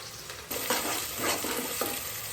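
Onions frying in a pan for Gujarati-style tempered khichdi, a loud steady sizzle close up with a few stirring scrapes, and no voices over it.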